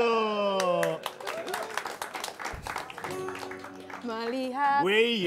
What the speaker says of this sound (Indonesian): Udah tepuk tangan dulu.